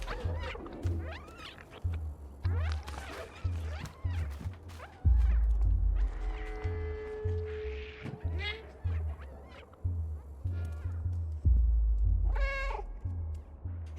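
Cat meowing in the video game Stray, repeated plaintive meows over a rhythmic thumping game soundtrack, with a warbling electronic tone partway through.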